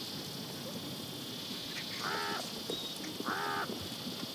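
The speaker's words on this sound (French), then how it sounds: "Les vautours oricoux, au sommet de la hiérarchie, ont la priorité sur les plus petits vautours chasse-fientes." Two short, hoarse calls ring out a little apart, moderately distant, from lappet-faced and hooded vultures feeding at a carcass in an African wetland park, over a steady bed of hissing insect and ambient noise.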